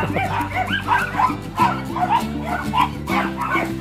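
Several dogs bark and yip in quick, overlapping bursts nearby, with some whimpering mixed in and a low steady hum underneath.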